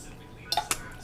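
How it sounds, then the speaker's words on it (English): Fork scraping and tearing at a 24-hour-brined deep-fried chicken wing on a plate, a few quick close clinks and scrapes over a quiet background. "I'm just ripping it apart with a fork."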